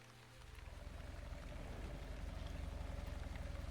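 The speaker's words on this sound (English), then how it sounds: "And we do have a light bit of rain." Light rain falls in The Wandering Village as a steady, soft patter that thickens slightly. A low, rhythmic pulsing runs underneath, and no one speaks.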